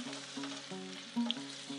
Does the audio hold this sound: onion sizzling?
yes